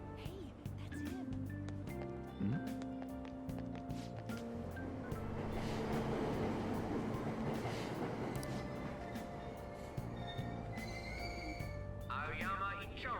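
A subway train idles at a station in Persona 5 Royal, a steady rumble and hum with tonal chimes and clatter, under a voice talking throughout.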